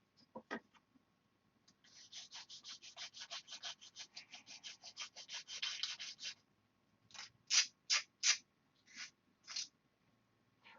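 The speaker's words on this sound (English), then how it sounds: "Let's sand it." A small plastic cockpit part for a scale model is sanded by hand in a fast run of close, raspy back-and-forth strokes, followed by a few slower, heavier scrapes after a short pause, with no talking.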